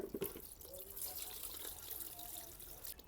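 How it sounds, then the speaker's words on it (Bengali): New potatoes being rinsed by hand under running tap water, a faint continuous splashing trickle with small clunks of potatoes moving in the sink, no speech. "এখন ভালো করে ধুয়ে কেটে নেব।"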